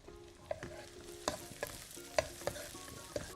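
Finely chopped onions, two medium ones, sautéing in a pan: a soft background sizzle broken by sharp spatula scrapes and clinks at irregular intervals, close and quiet, with no voices.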